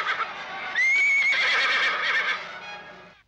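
A horse rearing lets out a loud, close, drawn-out whinny that rises and wavers for about two seconds before fading.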